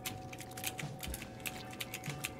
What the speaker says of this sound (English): It's the mechanical keyboard.